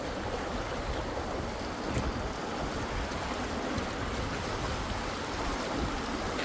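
A small tributary stream flows steadily down a rocky, boulder-strewn creek in the California highlands, a constant broadband wash of water that stays even and unbroken throughout.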